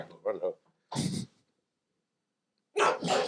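A single sharp sneeze bursts out between brief snippets of nearby talk, followed by a pause and then more speech.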